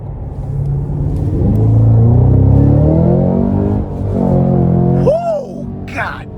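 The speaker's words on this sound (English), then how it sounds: "Now I had the car in track mode, and I just had to give that a pull." 2022 Cadillac CT5-V Blackwing accelerating hard in track mode, a loud close engine roar that rises and swells for several seconds before easing, with a brief voice and rattle at the end.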